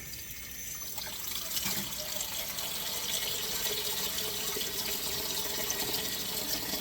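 Cold water runs steadily from a kitchen tap during casserole prep, a continuous bright splashing stream that stays close and fairly loud throughout with no talking.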